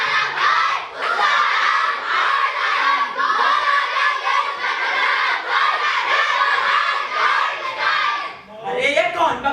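A crowd of protesters in a children's stage play shouts together, a loud, dense and continuous din of many young voices with no letup, rising into a final burst near the end.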